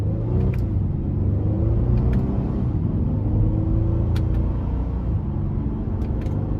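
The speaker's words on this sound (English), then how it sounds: "the acceleration is actually really great because I'm only putting my foot down about a third, in between a third and halfway down" 2023 Honda Pilot 3.5 V6 accelerating under part throttle, a steady low cabin rumble with gently rising engine tones, close and even, with a few faint clicks.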